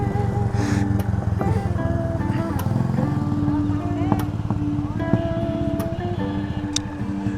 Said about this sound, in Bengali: এক্সস্টের সাউন্ডটা ওয়াও, আমার তো লাগাইতে ইচ্ছা করে